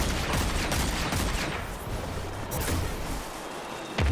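The Dead Man's Tale scout rifle fires in rapid sustained bursts at a Hydra enemy in Destiny 2, with dense loud gunfire layered over in-game combat effects and no pauses.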